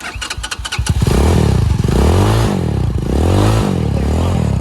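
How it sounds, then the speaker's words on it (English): A Dong Fang CXR STR 250 sport motorcycle engine cranks with a rapid clatter, catches, and revs loudly up and down a few times, close by. "push the start button, and just rev up the throttle"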